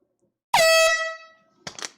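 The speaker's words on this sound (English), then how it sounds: "Another air horn here at Coletco." A single loud, blaring air horn blast lasting under a second at a live vinyl record sale, then trailing off, followed by a brief burst of noise.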